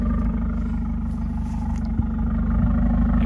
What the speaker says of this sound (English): Exhaust sounds good, by the way.